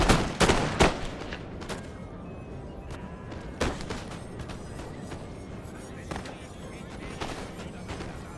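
In Napoleon: Total War, a multiplayer land battle at the Pyramids brings musket volleys and artillery blasts. Several sharp reports come early, then scattered booms and crackling fire follow over a busy battlefield din, with voices present.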